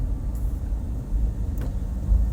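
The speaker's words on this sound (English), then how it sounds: "There's a big truck next to me." A big green truck rumbles alongside on the road, a steady low engine and tire drone close by with no pauses.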